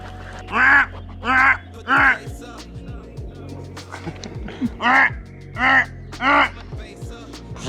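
Repeated harsh, raspy quacks in bursts of two or three, close by, with some faint background voices between them.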